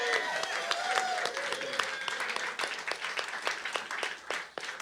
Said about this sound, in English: Let's just give the drummer an extraordinary round of applause.